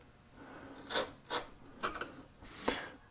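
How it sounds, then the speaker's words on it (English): A narrow chisel pushed by hand through wooden dovetails along a scribe line, giving four short raspy paring strokes, each a brief scraping burst, close and moderately quiet with no talk. "Then once I've got a line established, it's easy to move the chisel sideways."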